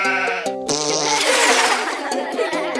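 A cartoonish goat bleats loudly in Goat Simulator, two short wavering cries followed by a burst of game sound effects and a brief laugh, all close and prominent.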